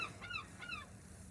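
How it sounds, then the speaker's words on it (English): A seagull gives two short, nasal honking calls in quick succession, faint and somewhat distant against a soft outdoor hiss. "the other seagull was just doing the incoming call"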